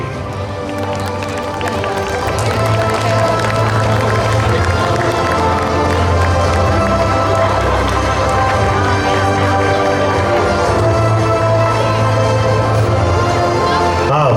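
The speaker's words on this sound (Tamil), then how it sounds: "உங்கள் கரகோஷம் எங்கே?" An audience at a January cultural celebration applauds and cheers after a piano performance, dense, loud crowd noise sustained throughout with no break.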